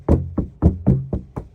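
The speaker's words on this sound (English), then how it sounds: "So, shutting the door," Heavy doors on a 2014 Volvo XC70 estate, solid and vault-like, closing in a series of six close, thudding knocks spaced a fraction of a second apart.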